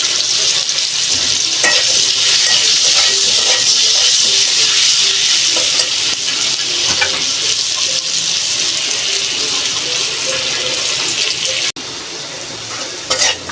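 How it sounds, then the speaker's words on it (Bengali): Potato pieces fry with turmeric in hot oil in a pan, a loud constant sizzle with stirring scrapes throughout and a brief dip near the end. "আলু ভাজা হয়ে গেছে।"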